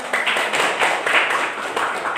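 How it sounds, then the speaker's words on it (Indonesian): A classroom of students clapping hands together in a chemistry lesson, loud close clapping in a few uneven bursts. "Tepuk tangan dulu."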